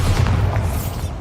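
A Bombarda spell bursts in Hogwarts Legacy, a deep booming blast with heavy low rumble that fills the whole short moment, loud and close.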